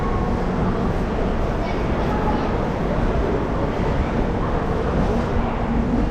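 The Saraighat Superfast Express rolls at speed on its run from Guwahati toward New Jalpaiguri, a steady, heavy rumble of wheels and carriage heard from inside the train, unbroken throughout.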